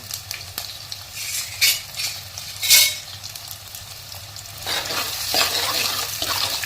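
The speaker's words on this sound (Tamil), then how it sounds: "வெங்காயம் நல்லா வதங்கட்டும்" Onion frying in a pan and being stirred, a moderate sizzle broken by scraping strokes and louder bursts of hiss, heard up close with no one talking.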